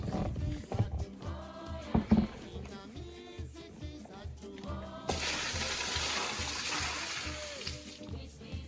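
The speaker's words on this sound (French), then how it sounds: "Donc l'eau elle est assez limpide, on va jeter l'eau." Clear soaking water for homemade potato trindri poured away, a gushing, splashing stream that grows into a steady, louder rush in the second half, with no voices.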